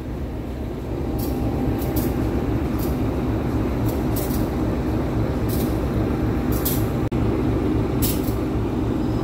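Argo Wilis train running past a station in Indonesia, a steady loud rumble of wheels and carriages with brief hissing bursts throughout, overtaking a local train waiting on another track.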